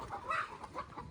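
Chickens clucking in a netted backyard coop, a steady medium-loud stream of short clucks and murmurs with a few louder calls, no voices.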